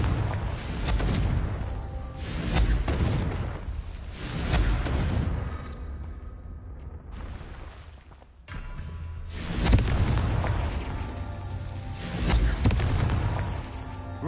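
Repeated Confringo blasting-spell explosions from Hogwarts Legacy, heavy booming blasts with bassy rumble recurring roughly every two to three seconds, loud and close, with a short quieter gap midway.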